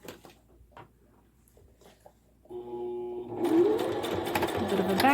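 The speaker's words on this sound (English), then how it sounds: "So again, I'm just going to do a couple of stitches there," A sewing machine starts up after quiet handling noises and runs a short burst of stitches on a fabric kitchen boa, a close, steady mechanical whirr that builds to a busy rattle.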